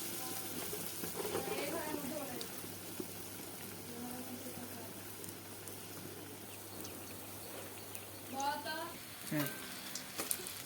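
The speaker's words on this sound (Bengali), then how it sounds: "এবার তেল দেবো। বড়াগুলা ভাজবো।" Drumstick and gram flour fritters fry in oil, giving a soft steady sizzle with a few louder bubbling bursts near the end, while people talk now and then.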